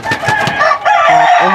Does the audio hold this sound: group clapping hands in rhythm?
no